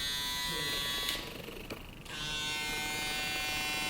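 Andis Recon trimmer running with a steady, even electric buzz that stays constant, briefly dipping in the middle before resuming at full strength, close by with no talk over it.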